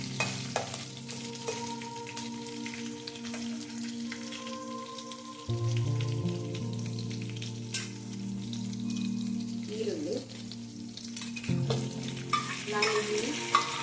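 Chicken pepper dry curry fries in a pan with a steady close sizzle and occasional stirring scrapes, under a low continuous hum and no talk.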